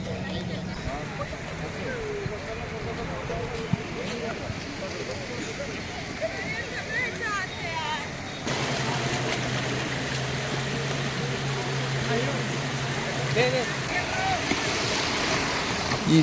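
Sea waves wash steadily onto Corbyn's Cove beach in the Andaman Islands, a broad continuous surf roar mixed with wind, with a voice talking over it.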